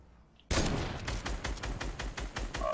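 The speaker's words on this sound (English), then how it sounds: "Watch it, you're getting shot at." Gunfire in Fortnite: after a brief quiet moment, a loud, rapid burst of shots starts suddenly and keeps going in an even, fast rhythm until the end.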